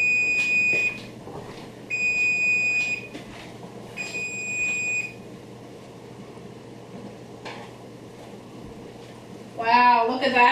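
A kitchen timer goes off while tomato sauce is being canned, sounding three sustained high electronic beeps in a row over a steady low hum, close and loud, followed by a short burst of other noise near the end.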